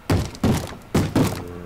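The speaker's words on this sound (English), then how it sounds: "Someone knocking?" Knocking on a door in the game Feed The Beast: four heavy hollow thuds close by, in two pairs, with no speech over them.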